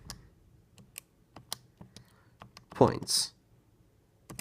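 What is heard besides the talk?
typing on TI-80 calculator keys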